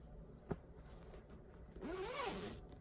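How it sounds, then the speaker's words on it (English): A zipper on a handmade fabric project bag being pulled open, a quick rasping zip heard up close after a soft tap, in a quiet room. "she put a zipper in"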